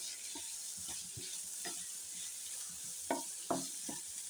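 Food stirred in a pan after Maggi masala goes in, a soft continuous sizzle broken by several clear spatula scrapes and taps, two sharper knocks near the end.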